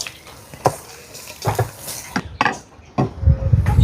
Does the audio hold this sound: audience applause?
no